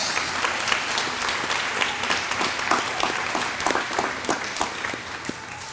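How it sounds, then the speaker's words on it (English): Audience applause for board members at the Clinch River Community School graduation ceremony for the class of 2024, a sustained crowd clapping with crisp individual claps standing out over a steady wash. "Round of applause."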